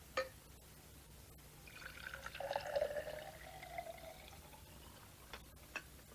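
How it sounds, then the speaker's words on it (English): A cool drink is poured into an empty glass, a faint, quiet trickle that rises in pitch as the glass fills, with a few soft clinks at the start and end. "So would you like to pour your cool drink into this empty glass?"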